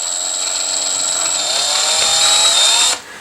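A power drill with a 1/8 bit bores into a wooden ballet barre, a steady high whine held close for about three seconds before cutting off abruptly.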